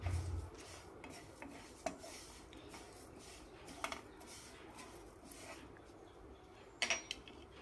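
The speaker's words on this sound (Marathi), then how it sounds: "खोबऱ्याचा किस टाकल्याच्या नंतर छान भाजून घ्यायचं याला परत" Grated coconut and curry leaves roasting in a pan for sesame-style karal chutney, heard as a quiet scraping stir with occasional light clinks of a spoon against the pan, low and steady without talk.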